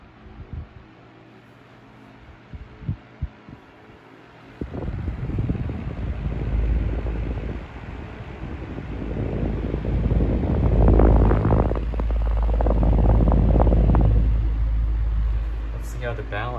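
A 2015 Mastercraft 14-inch high velocity fan, slightly misaligned, starts up after a few clicks into a steady low whooshing rumble that swells and wavers, with a person talking over it.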